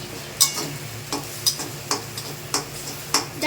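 Egg bhurji sizzling in a pan as a utensil stirs it: a steady close frying hiss under regular scraping strokes, about six evenly spaced metallic scrapes, no talk.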